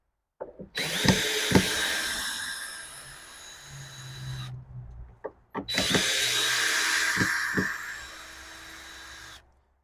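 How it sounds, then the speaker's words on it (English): A power screw gun drives screws into a greenhouse door in two long, loud whirring bursts separated by a pause, with sharp clicks and knocks as each run starts and stops. "Screw gun. Well, I'll do all these screws."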